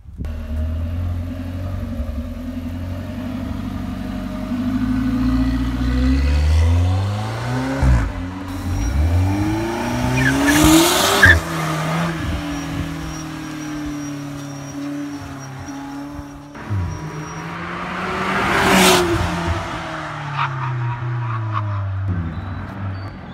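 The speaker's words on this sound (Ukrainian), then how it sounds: "гонки на червоній Альфа Ромео" A red Alfa Romeo races with its engine droning and revving up and down, its pitch sweeping steadily and loud throughout. Brief bursts of tire noise cut in along the way.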